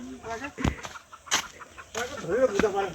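Chickens cluck in repeated short bursts close by, with a person talking in between.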